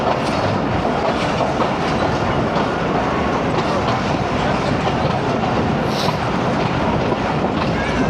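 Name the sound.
train ride, Lahore to Narowal, 9UP Allama Iqbal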